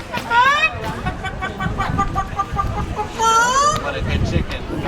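A parrot imitates a chicken with two squawky, rising clucking calls separated by softer chattering sounds, close and fairly loud.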